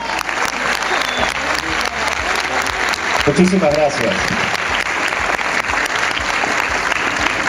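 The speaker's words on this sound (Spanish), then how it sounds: "Recibámoslo con un fuerte aplauso." A conference audience in Nezahualcóyotl gives loud, sustained applause to welcome a speaker on transhumanism, the dense clapping continuing throughout while someone briefly speaks over it.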